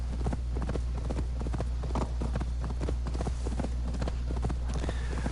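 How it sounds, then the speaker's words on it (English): Rapid, steady hoofbeats of a galloping horse in Assassin's Creed Valhalla, a rhythmic clip-clop over a constant low hum, with no talking. "Call the horse, and away we go."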